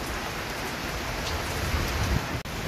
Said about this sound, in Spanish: Llueve un poquito hoy en Providencia.